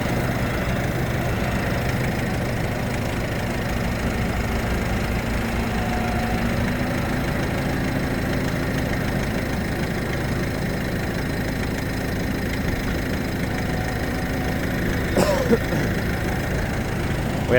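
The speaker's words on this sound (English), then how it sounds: "running the loader tractor there." A loader tractor engine runs at a steady idle nearby during hay and soybean straw baling on a farm, a continuous mid-low drone with a brief higher clatter near the end.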